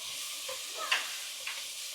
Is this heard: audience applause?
no